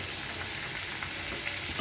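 Vegetable bhaji with turmeric and salt sizzles in hot oil in a small kadai, a steady close crackle and hiss, with no voices.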